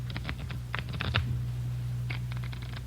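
Playing cards are shuffled in quick crisp bursts of riffling clicks, a cluster near the start and another brief flurry later, close and fairly quiet over a low steady hum.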